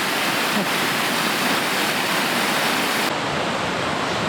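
Loud, steady roar of rushing water at river falls and rapids in Algonquin Park pours without pause, a dense broadband wash close by.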